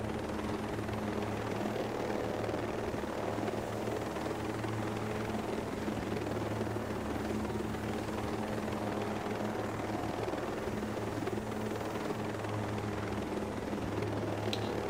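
A helicopter in the Ghost Recon Breakpoint video game drones steadily with a low rotor hum and engine whine, a constant, moderately faint mechanical sound throughout with no talking.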